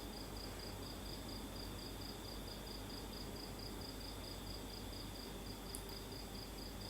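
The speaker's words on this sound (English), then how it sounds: "you might notice the sound of crickets, the occasional gecko, perhaps a bird song here and there" Crickets chirp at night in a quiet, faint, evenly pulsing trill that repeats steadily throughout over a soft background hiss.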